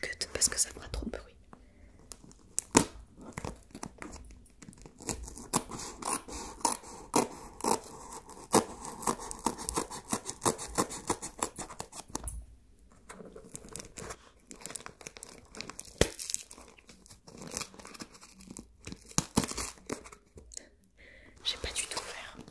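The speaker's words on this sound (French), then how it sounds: "Point ouverture du colis." Close rustling, crinkling and snipping as a parcel is opened with scissors, with soft whispering throughout.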